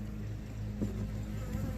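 Honeybees buzzing steadily during a beehive inspection, a dense low drone close by, with occasional brief louder passes as individual bees fly near.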